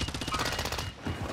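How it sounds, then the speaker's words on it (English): Automatic gunfire in the video game Call of Duty Warzone, a rapid, loud burst of evenly spaced shots that rattles on for about a second before breaking off. "Ah, he's shooting at me."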